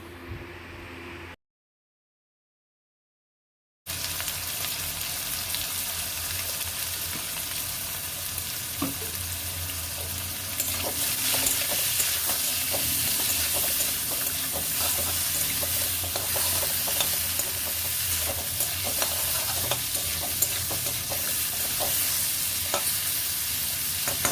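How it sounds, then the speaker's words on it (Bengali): Ground spices with salt and turmeric sizzle in hot oil in a pan while being stirred, a continuous close frying hiss with scraping stir sounds and no talk; the start is briefly cut to silence. "মশলাটা একটু ফ্রাই হয়ে যাবার পর"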